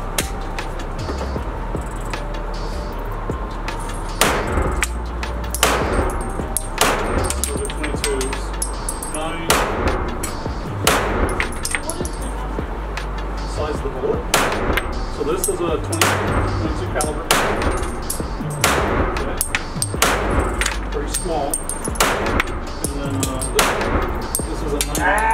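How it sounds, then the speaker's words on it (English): .22 caliber gunshots fired outdoors, a long series of sharp cracks at irregular intervals, some close together and some spaced apart, over steady background noise. "I got the 22s in there. I'm going to shoot them."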